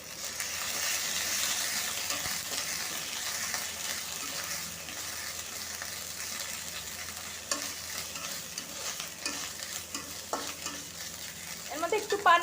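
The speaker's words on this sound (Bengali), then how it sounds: "বাটা মশলাগুলো সুন্দর করে কষানো হয়ে গেছে।" A ground spice paste of onion, garlic, ginger and cumin sizzles and fries in a pan, with steady stirring and scraping close by, and a few louder clinks and scrapes near the end.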